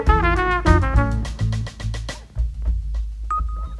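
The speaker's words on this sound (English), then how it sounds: "Shane, play the quiet cue." A band plays a quiet cue: a loud burst of rapid ensemble notes over deep bass that thins out and fades to soft, sparse sounds, ending on one faint held tone.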